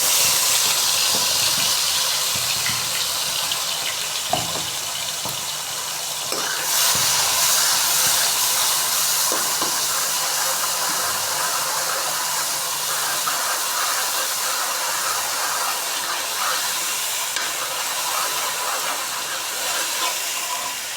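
Ground garlic, onion, chili and tomato paste sizzle steadily in hot oil, a constant bright hiss that stays close and fairly loud throughout, with a few soft clicks and stirring knocks and no talking.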